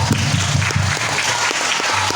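An audience claps loudly at a Quran recitation gathering, a dense burst of applause that carries on steadily for a couple of seconds with no talking over it.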